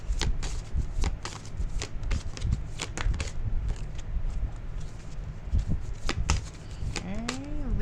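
Tarot cards are shuffled repeatedly, a steady run of crisp riffling and slapping strokes, close and fairly loud, with a brief voice near the end.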